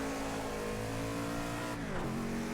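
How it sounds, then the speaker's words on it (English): Race car in the Project Cars 2 video game holding a steady high engine drone, then the pitch sweeps down sharply as it engine-brakes, loud and close. "Oh, engine braking, yeah."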